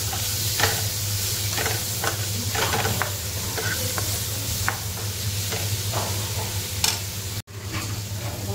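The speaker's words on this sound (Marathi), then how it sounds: "कांदा टोमॅटो आपला फ्राय होता होता आपण आलं, लसूण आणि वेलची हे पण याच्यात फ्राय करून घेऊया आपण" Onion, tomato, ginger, garlic and cardamom fry in a pan for a homemade masala, giving a steady sizzle with repeated scraping stir strokes close by and no talking.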